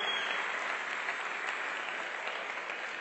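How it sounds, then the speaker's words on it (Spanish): A comedy club audience in Mexico City claps loudly and steadily for about three seconds, with a dense, even wash of applause and no voices on top. "El aplauso para Gaby, por favor"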